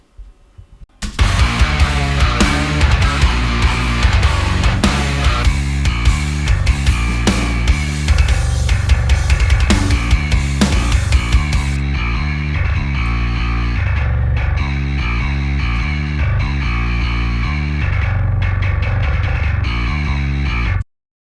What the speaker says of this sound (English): Today I'm gonna show you how I make my bass tone using my Dingwall NKI.